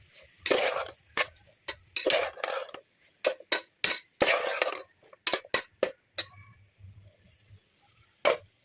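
Masala being mixed into biryani in a pot, a series of sharp scraping clanks and taps of a utensil against metal, close and separated by short silences, with no talk.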